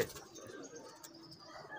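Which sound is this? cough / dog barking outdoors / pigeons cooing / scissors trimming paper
pigeons cooing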